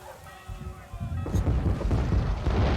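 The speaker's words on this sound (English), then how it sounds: "Well, the cannons are firing." Cannon fire in the TV show Black Sails: a tonal musical passage gives way to a heavy boom followed by a continuous rumbling barrage of loud low blasts and crashes.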